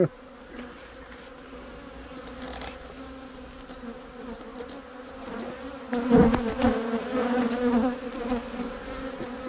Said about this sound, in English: there's a lot of bees around now